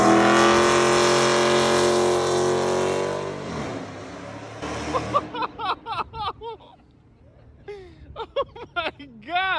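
A Honda Civic EK hatchback engine roars at high revs with a sustained, harsh tire-squealing burnout, then cuts off as excited voices shout over the fading engine.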